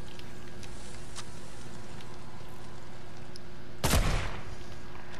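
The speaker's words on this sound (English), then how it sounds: "And I'm being sniped from the right." A single loud sniper shot cracks out in a video game battle, with a short rumbling tail, standing out sharply over a steady background of distant ambient noise and faint clicks.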